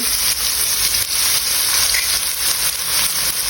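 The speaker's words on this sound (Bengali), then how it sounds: "এখন আমি পেঁয়াজ দিয়ে দিব লবণ দিচ্ছি পেঁয়াজের ভিতরে লবণ দিচ্ছি" Salted onions fry in a pan, giving a loud, constant sizzle and hiss with faint stirring scrapes underneath.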